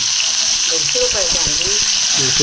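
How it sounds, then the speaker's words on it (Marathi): Fish sizzling as it fries in a pan over a home cooking fire in rural Konkan, with a steady broadband crackle and hiss running throughout while a voice talks over it. "आई बाजारात गेलेली मच्छी घेऊन आले मच्छी फ्राय करते"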